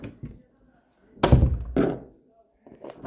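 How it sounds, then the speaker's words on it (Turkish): A door in a hallway shuts with two heavy close thuds in quick succession, set between short quiet gaps and a little nearby movement. "Kapat bir kapıyı."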